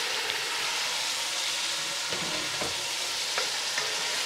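Ground tomato sizzles and fries in a pan of spiced masala for a chicken dish, a steady close hiss with occasional stirring scrapes, and a brief spoken word.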